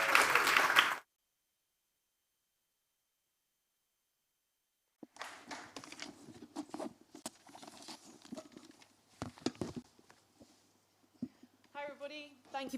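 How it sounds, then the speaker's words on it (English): Brief burst of audience applause for a speaker at a conference talk, cut off after about a second, followed by silence and then scattered taps and a voice speaking. "Shall we once again give Francesca a round of applause as she also shares her journey with us?"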